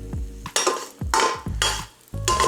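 Chorizo stirred in a metal paella pan with oil, four distinct rounds of scraping and sizzling, each starting with a low clank as the spoon hits the pan, loud and close.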